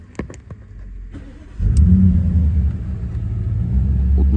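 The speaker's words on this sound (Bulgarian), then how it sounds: "Трябва да прецъкаме отново контакта и да стартираме автомобила" An Audi S8 D4 cranks after a few clicks and catches, then settles into a loud, steady, deep idle heard close up with no talk over it.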